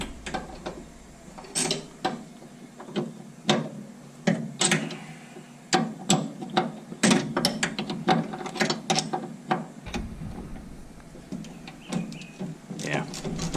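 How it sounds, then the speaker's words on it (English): A 9/16 wrench ratchets a bolt on the front suspension of a 1967 Mustang during coil spring work, giving sharp repeated metallic clicks in bursts close by, with some indistinct talk between. "I'm going to have to use a wrench on this one, at least to get it started."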